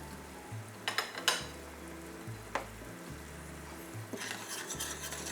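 Cooking liquid added to curry paste frying in fat for an oxtail sour curry, a soft sizzle broken by a few sharp clinks and scrapes, swelling to a louder bubbling hiss near the end.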